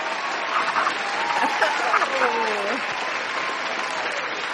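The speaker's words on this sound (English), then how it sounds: "please give a round of applause" A studio audience gives a round of applause for a Reiki practitioner and spiritual life coach, steady clapping across the whole stretch with a voice or whistle-like tones weaving through the middle.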